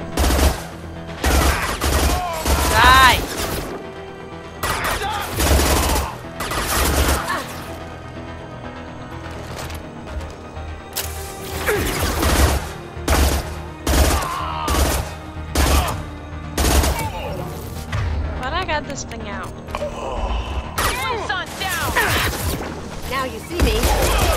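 Rapid bursts of gunfire and impacts in the video game Mass Effect 2, loud and repeated throughout, with voices talking over the combat.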